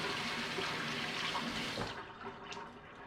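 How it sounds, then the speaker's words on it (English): Tap water runs steadily over a roller skate bearing being spun under the stream, a close, constant splashing rush that thins out and tails off toward the end. "give it a really good spin while holding it under running water"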